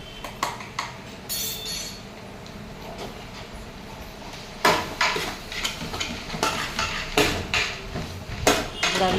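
A spoon scraping and clinking against a pot while stirring salt, turmeric and spices together, irregular metallic knocks and scrapes that grow busier in the second half.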